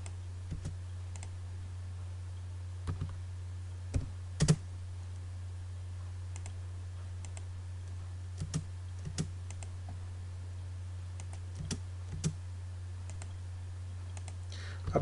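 Commands are typed on a computer keyboard during AutoCAD drafting work, heard as quiet, sparse key clicks and occasional sharper taps spread across a low, humming background, without any talk.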